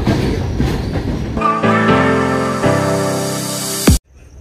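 Train travelling from Punjab toward Moradabad in Uttar Pradesh, heard close up as a loud rumble, then a sustained, tonal horn blast that cuts off sharply, leaving quieter running noise.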